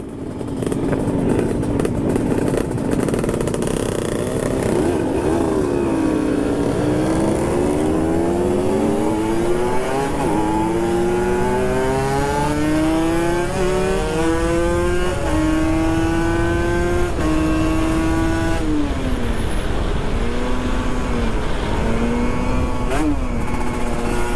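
Kawasaki Ninja RR 150cc two-stroke motorcycle revving loudly and continuously, engine pitch climbing and falling through repeated throttle sweeps up close, with no talk over it.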